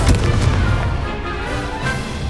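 A Confringo blasting spell explodes in the Hogwarts Legacy video game as a loud, dense, rumbling boom that fills the whole stretch without a break.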